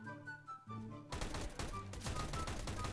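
Tec-9 pistol fire in the video game CS:GO crackles in rapid successive shots, with a denser sustained burst of gunfire after a brief quieter lead-in, loud and close.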